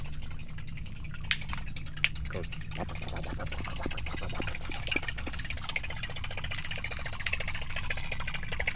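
A Plopper fishing lure heard underwater, giving a rapid train of faint clicking, plopping pulses over a low murky rumble, with a person speaking briefly over it.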